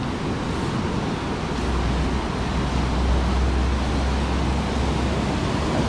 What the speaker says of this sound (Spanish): Aquí el río ha subido.